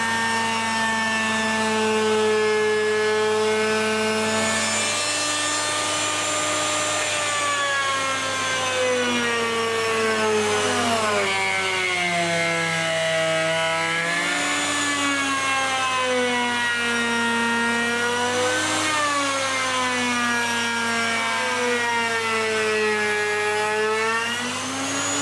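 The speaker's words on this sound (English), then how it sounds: "So I'll do this with the handheld router, and I've got it slowed down considerably." A handheld router cuts the curves of a solid wooden Stratocaster guitar body while running at a reduced speed, giving a loud, steady tonal whine that rises and falls in pitch as the bit loads and unloads through the cut.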